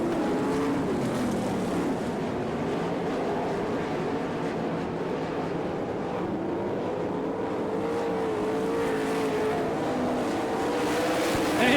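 Sprint cars race around a dirt oval at an All Star Circuit of Champions event in Florence, Kentucky, their engines a continuous loud roar that rises and falls as the pack circles the track.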